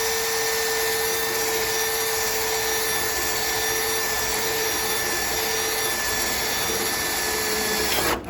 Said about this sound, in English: I'm just using a self-tapping bit that works fine too. It just drills through